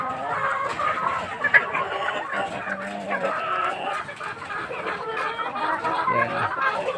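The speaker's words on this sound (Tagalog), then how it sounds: "Mga Rhode Island at saka Hubbard Heritage Chicken." A flock of Rhode Island and Hubbard heritage chickens cluck continuously, many birds overlapping at close range in a busy, chattering chorus.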